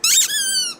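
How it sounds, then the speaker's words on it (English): A squeaky toy gives one sharp, high, bright squeak that trails off into a steady whistling tone for nearly a second, loud and close, with no talking over it. "Steve's got a squeaky toy"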